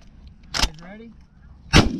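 Two sharp, loud shotgun blasts about a second apart, fired while hunting geese in heavy fog, each with a short boom and decay; a faint honking goose call rises between the shots.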